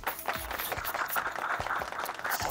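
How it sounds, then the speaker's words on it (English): Students applaud at an awards ceremony, a dense, steady burst of clapping that holds loud and unbroken for the whole stretch. "Let's hear those students cheer"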